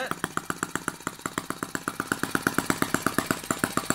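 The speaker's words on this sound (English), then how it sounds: "I quite like that poppy sound you get with a retarded spark" A Microcosm T1/T26 Chinese model gas tractor engine runs slowly on retarded spark, giving a steady, even train of soft pops at about five per second. The sound is close and moderately quiet, with no talk over it.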